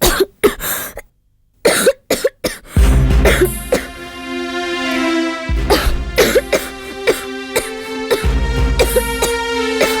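Repeated harsh coughing in bursts, close and loud, with short gaps between fits and a steady hum underneath.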